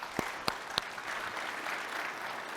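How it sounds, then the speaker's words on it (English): An audience at a live IGNITE event for Rocket Pro TPO claps for a presenter; three sharp close claps ring out first, then a softer, steady wash of applause from the room follows. "So round of applause for Tim."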